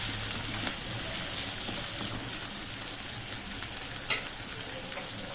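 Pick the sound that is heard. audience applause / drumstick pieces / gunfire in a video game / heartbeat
drumstick pieces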